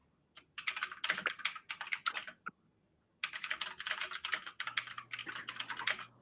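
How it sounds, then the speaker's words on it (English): Fast bursts of typing on a computer keyboard, close and fairly loud, in two runs of rapid clicky keystrokes separated by a short pause. "Let me just quickly type this in."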